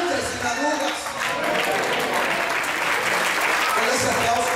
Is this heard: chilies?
no